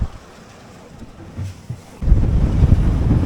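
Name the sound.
strong wind and waves on a 21 foot sailboat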